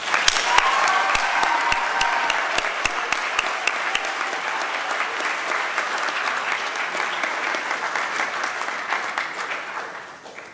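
A large audience at a school awards ceremony breaks into loud, sustained applause, with dense clapping that continues evenly before tapering off at the end.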